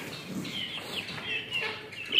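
A hen clucking softly several times at close range, over light background noise.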